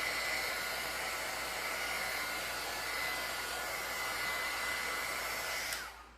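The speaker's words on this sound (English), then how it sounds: "I'm using the craft heater, so it has some good heat with it" A craft heat tool blows steadily while drying a layered transfer, a loud continuous hiss and whoosh that runs unbroken for several seconds before cutting off abruptly at the end.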